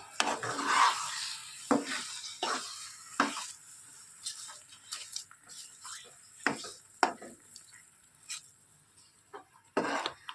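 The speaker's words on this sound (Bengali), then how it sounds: "আচারটাকে কিন্তু এইভাবে কন্টিনিউ নাড়তে থাকতে হবে, নাহলে কিন্তু তলায় পুড়ে যেতে পারে।" Sweet hog plum pickle cooking with sugar in a pan is stirred continuously, with repeated close scraping strokes over a faint sizzle in an uneven rhythm.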